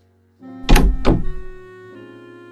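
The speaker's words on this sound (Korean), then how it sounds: "아들과 함께 예약된 방문을 열고 들어갔습니다." A room door in an audio drama opens with two close, solid thunks of the latch and handle, followed by a faint scrape, all against a soft, steady room tone.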